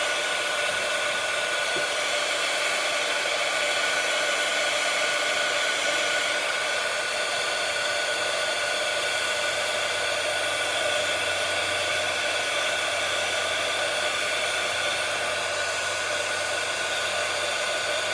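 A hair dryer dries watercolor paint on paper. It gives a steady, loud, continuous whirring blow close by, with no talk over it.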